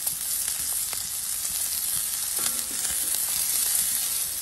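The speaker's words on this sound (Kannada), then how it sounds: "ಚೆನ್ನಾಗಿ ಇದನ್ನ ಫ್ರೈ ಮಾಡಬೇಕು." Chopped onion sizzling and frying in a pan, a steady close crackle and hiss throughout with faint stirring sounds and no talk.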